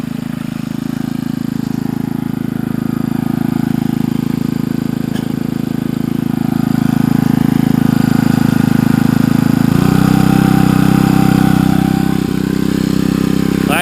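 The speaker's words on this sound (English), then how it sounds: "So I might actually turn that pump up a bit more." A small pump engine runs steadily on a gold-crushing setup for quartz, a loud, continuous droning hum that shifts slightly in pitch partway through as it is turned up.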